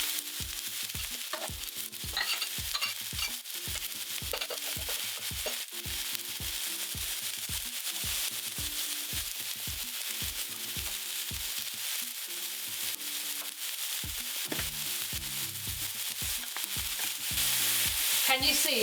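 Vegetables searing in a very hot, smoking pan for a veggie burrito, a continuous close sizzle broken by rhythmic scraping and tapping clatter, with a sharper burst near the end, no voices.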